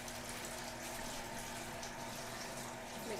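Kitchen tap water runs in a steady, close hiss while an item is rinsed, unbroken for the few seconds with no voice over it.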